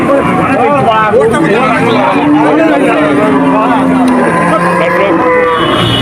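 Cattle low and moo at a busy rural cattle market where cows are being sold, over a steady crowd babble with people talking throughout and occasional traffic noise nearby.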